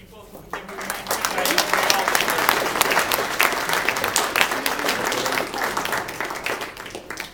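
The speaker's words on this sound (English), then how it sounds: "While everybody's applauding, can we give a round of applause to all the committee people" Members at a fruit growers' club meeting applaud their committee, clapping swelling quickly from a quiet start into a full, steady round from a roomful of people, with voices murmuring underneath.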